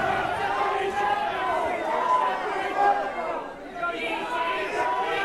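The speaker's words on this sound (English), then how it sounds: "Got the fight professors from the crowd yelling knee" A fight crowd shouts and yells in waves around an MMA bout, excited voices rising and falling in a busy, loud hubbub.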